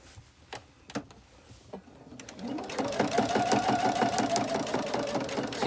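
A sewing machine doing free motion quilting on a scrappy quilt starts after a few faint knocks and runs in a rapid, even close stitching patter, moderately loud and alone.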